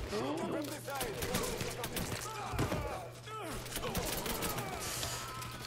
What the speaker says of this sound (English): there's a machine gun guy